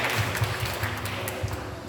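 An audience applauds at a student association event, a steady broadband patter of many hands clapping throughout the short stretch at moderate loudness, with some faint speech underneath.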